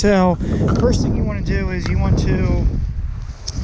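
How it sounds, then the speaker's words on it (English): Someone talks steadily while low, blustery wind rumbles against the microphone underneath his voice throughout, outdoors while fishing for carp. "Sorry for the wind in the background, it's a little bit windy today"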